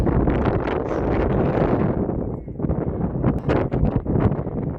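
Strong gusts of wind buffet the microphone in a loud, rough roar that surges and dips, with no voices, on a hillside climb at Çıralı, Antalya.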